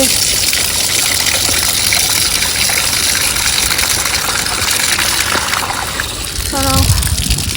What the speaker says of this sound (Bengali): জলটা সোজা হয়ে পড়ছে